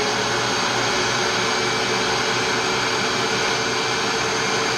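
A DeWalt DW735 thickness planer fitted with a Byrd Shelix spiral cutterhead runs with a dust collector, producing a loud, constant broadband roar and whine throughout with no pauses.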